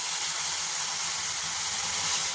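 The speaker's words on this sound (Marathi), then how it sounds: "हे जे गरम पाणी एका साईडला करायला ठेवलं होतं दूध पाणी ते आपण याच्यामध्ये हळूहळू ॲड करायचं आहे" Hot milk and water poured slowly onto roasted fine semolina for sweet sheera, letting out a loud, continuous steamy hiss and sizzle up close.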